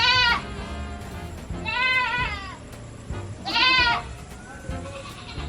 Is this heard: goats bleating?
yes